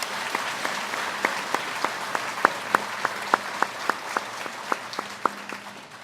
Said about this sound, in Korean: 우리 온 교인들이 한번 감사의 박수 보내주시기 바랍니다.